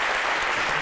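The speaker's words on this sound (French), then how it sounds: "On l'applaudit très très fort." Loud, close audience applause on a French-language midday television show, a thick continuous wash of clapping filling the whole brief moment.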